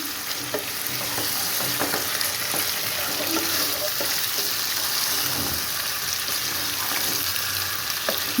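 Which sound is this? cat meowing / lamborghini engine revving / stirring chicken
stirring chicken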